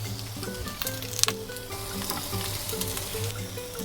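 Dried seafood with ginger and garlic crackles in a little hot oil in a wok, a soft continuous sizzle with occasional stirring knocks over a steady background hum.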